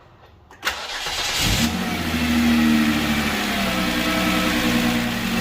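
Hyundai Genesis 3.8L engine cranking briefly, then catching and settling into a steady, close idle on a cold start the next morning.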